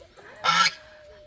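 A goose gives a single loud, brassy honk close by. It lasts a fraction of a second over a quiet rural background.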